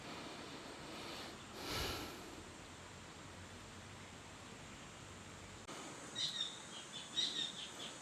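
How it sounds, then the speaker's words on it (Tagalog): Birds sing in a forest in the Philippines, with a couple of faint, brief chirps near the end over a low, steady hiss of background ambience and no talking. "Sarap pakinggan ng mga ibon"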